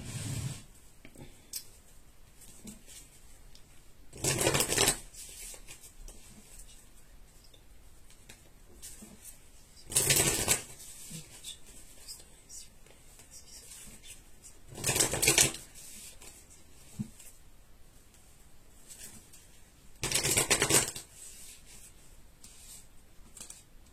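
Tarot cards being shuffled: four short, crisp rustling bursts come at even intervals, separated by near silence.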